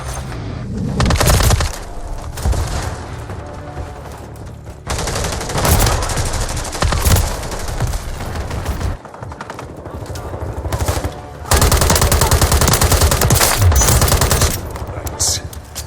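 Dense gunfire in Call of Duty Modern Warfare III multiplayer, with sustained automatic bursts and sharp cracks at varying distances, continuing loudly throughout with short lulls and heavy impacts.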